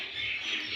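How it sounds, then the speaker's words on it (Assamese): A myna bird calling, a steady bright tonal chirp held for under a second, fairly faint and alone with no voices. "মইনা চৰাইৰ মিঠা মাত শুনিবলৈ ভাল"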